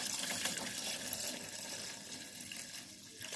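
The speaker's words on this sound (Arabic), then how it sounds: "دلوقتي بقى هنزل باللبن بتاعنا." Milk pours steadily into a pot while rice pudding is being made, giving a continuous close-up splashing, rushing liquid sound that slowly eases off, with no voices.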